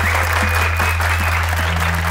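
A university audience in a Persian comedy series breaks into loud, steady applause, a dense unbroken wall of clapping heard up close over a constant low electrical hum.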